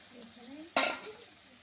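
Spiced water poured into a hot pan of chapila fish for patury, a sudden loud hiss that bursts out and then fades into a softer sizzle, following a quiet stretch of faint kitchen sounds.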